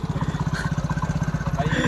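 A tractor engine runs steadily close by in rural Punjab, a low rhythmic chugging throb with regular pulses throughout, with a voice talking over it.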